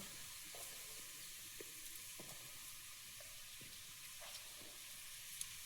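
Potatoes fry in a pan with a faint, steady sizzle, broken by a few soft clicks and taps that suggest stirring.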